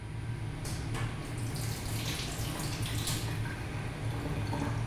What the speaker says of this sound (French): Elle active le robinet afin de faire un lavage court des mains.